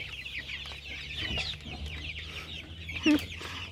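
Small Faverolles chicks cluck and peep softly, nearby, in scattered bursts. One louder call stands out near the end.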